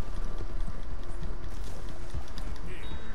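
Horse hooves clip-clopping on the ground in Red Dead Redemption 2, a steady, fairly loud rhythmic patter running through the whole stretch over a busy game background.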